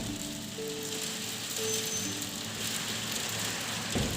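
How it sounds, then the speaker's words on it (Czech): An extreme hailstorm roars as a dense, steady hiss of stones hitting surfaces, heard from shelter on a walking trip toward the Baltic, with a faint tone underneath and a sharper clatter near the end. "když už si myslíte, že vás nic nepřekvapí, přijde extrémní krupobytí."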